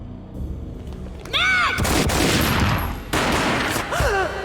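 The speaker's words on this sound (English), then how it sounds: "A gunshot boomed and she fell down in slow motion." Gunfire in the PC game Max Payne: heavy booming shots burst in, then a sustained loud volley with a short break and a second burst, mixed with whooshing slow-motion effects and game sound.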